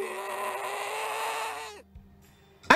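Reversed wailing cry of a headcrab zombie enemy from a video game, a sustained eerie bleating moan that cuts off abruptly, followed by near silence and a sharp click at the end.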